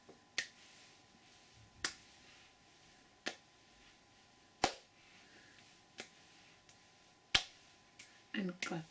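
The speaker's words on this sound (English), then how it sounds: "And clap and dance your hands." A single person's hand claps during a guided movement session, six or seven sharp isolated claps spaced roughly evenly over a quiet background, each one crisp and fairly close.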